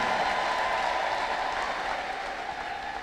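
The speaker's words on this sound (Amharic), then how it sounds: "ለጌታ እልልታና ጭብጨባ አምጡ።" A church congregation claps and ululates in praise of the Lord: dense, loud, sustained applause with a high, trilling vocal tone running over it.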